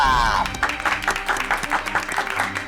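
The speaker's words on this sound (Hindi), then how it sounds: "तालियां" A crowd applauds a third-prize winner at a trophy presentation, a short burst of rhythmic clapping with a voice talking over it.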